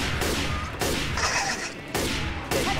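Sniper rifle fire in the zombie shooter Left 4 Dead 2, a few loud booming shots spaced about a second apart, each with a sharp onset and a short decaying tail.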